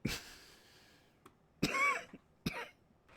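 A few quiet, close coughs come in separate bursts, with a rough throaty rasp on one, spaced by short silences.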